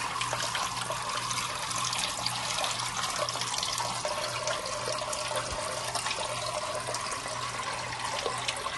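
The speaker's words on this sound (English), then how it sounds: "Check out that waterfall." Small waterfall inside a 125-gallon iguana paludarium, a steady continuous splash and trickle of falling water filling the whole stretch at an even level, heard alone with no voices.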